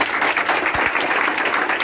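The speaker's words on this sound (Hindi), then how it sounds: "धनंजय जी के लिए भी ताली बजाइए" An audience at a Patna event with Super-30's Anand Kumar applauds a teacher: loud, dense, continuous clapping from a crowd throughout, with no talk.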